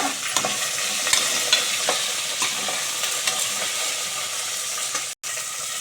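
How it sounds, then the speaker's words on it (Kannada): Drumsticks frying in hot oil in a pan for masala sambar, with a steady close sizzle, stirring scrapes and clatter throughout, and a brief cut near the end. "ಇವಾಗ ಫಸ್ಟು ನುಗ್ಗೆಕಾಯಿ ಹಾಕೊಂಡ್ಬಿಡ್ಬೇಕು ಸ್ವಲ್ಪ ಗಟ್ಟಿ ಅಲ್ವಾ ಇದು ಸ್ವಲ್ಪ ರೋಸ್ಟ್ ಮಾಡ್ಕೊಂಡ್ಬಿಡ್ಬೇಕು"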